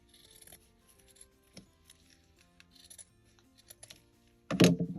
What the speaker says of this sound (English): I'm going to go ahead and cut a piece of the sleeve.